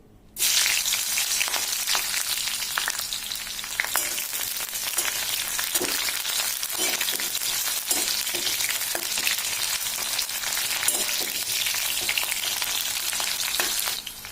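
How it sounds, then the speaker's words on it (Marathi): Large green chillies frying in hot oil give a dense, continuous crackling sizzle that starts abruptly and holds steady at close range, with scattered pops and light stirring clicks throughout. "आता मी पहिले त्या तळून घेते आणि काढून घेते"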